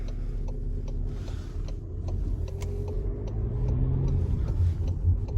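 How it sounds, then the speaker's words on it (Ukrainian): A 2019 facelifted Skoda Octavia A7 with an 85 kW 1.6 TDI diesel, heard from inside while driving: a steady low engine and road rumble that swells gradually, with faint cabin clicks and no talking. "Їдемо з вами, провеземося на даному автомобільчику."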